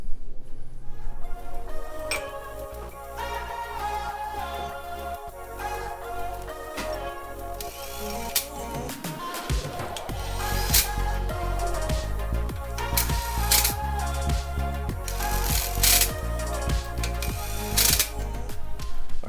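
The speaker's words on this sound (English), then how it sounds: "And then we'll start getting all these threaded on." A hand ratchet clicks repeatedly while threading Spidertrax wheel spacer nuts onto a Jeep Wrangler JL, close and fairly loud, with bursts of rapid pawl clicking and metallic clatter throughout and no talk.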